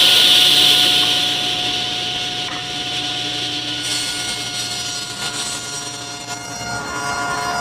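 A table saw makes an angled bevel cut through wood: a loud, steady whine from the spinning blade with a raspy cutting texture that dips and then picks up again, heard alone with no speech.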